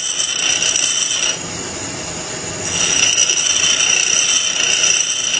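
A steady, high-pitched grinding hiss of a drill bit against a spinning grinding wheel, easing off briefly in the middle before resuming at full strength.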